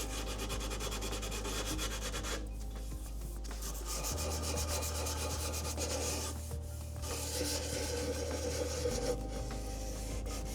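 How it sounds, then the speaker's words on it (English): Steady, soft rasp of light hand sanding on a wooden leg of a Kent Coffey Perspecta dresser, continuous rubbing strokes at close range with a constant low hum in the room. "On this leg, just lightly, ever so lightly, sanding some of the blemishes."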